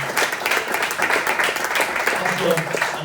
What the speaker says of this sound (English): Please clap it up.